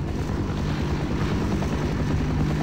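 A plane flying overhead in the video game Half-Life, a steady, continuous engine drone with propeller-like throb that stays loud and even throughout, with no talking.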